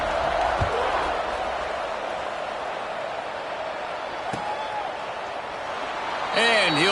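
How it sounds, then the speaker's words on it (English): A football stadium crowd at a Penn State vs Minnesota game keeps up a steady, distant buzz of murmuring, with a brief whistle-like tone near the end. "this crowd is buzzing after that last score."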